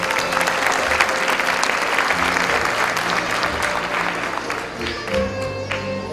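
Sustained, dense applause from an audience at a school graduation ceremony at Escuela Enrique Zañartu Prieto, steady for several seconds and then thinning slightly while faint background tones linger.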